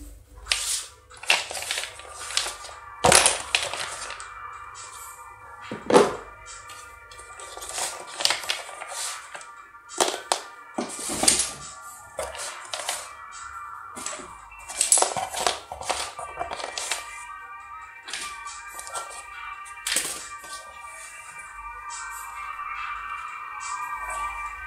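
A Burning Atlas Super B-daman toy fires marbles: a run of sharp, close clicks and taps, each shot separated by short pauses, over a faint steady tone.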